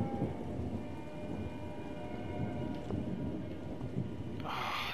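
A thunderstorm in the horror video game Remothered: Tormented Fathers, with steady rainfall and low, rolling thunder rumbling underneath, held at a fairly quiet level throughout.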